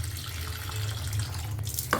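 Tap water runs steadily into a sink as green chilies are rinsed, a continuous close rushing stream with a brief clatter near the end and no voices.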